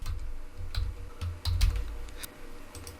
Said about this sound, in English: So I'm gonna click on this hide and type my own password.